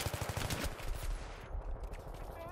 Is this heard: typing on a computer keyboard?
no